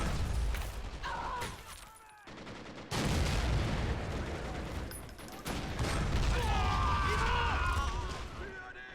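Gunfire and battle noise from the video game Army Men Battle Simulator, with bursts of shots, mechanical clanks and rumbling explosions in a chaotic, moderately loud mix that cuts in and out.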